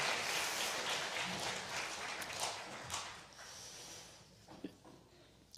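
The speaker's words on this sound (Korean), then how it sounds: "이들을 위해서 우리 큰 박수 한번 합시다" A church congregation at a Christmas service applauds the Jerusalem choir and musicians, a dense round of clapping from a large crowd that slowly thins and fades, ending in a few scattered claps.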